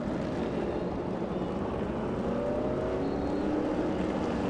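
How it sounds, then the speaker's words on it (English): Can-Am race cars at the Long Beach street circuit produce a dense, continuous engine roar, with a rising whine passing through as cars go by at speed, steady and loud throughout with no talk. "Listen to these cars. Listen to them."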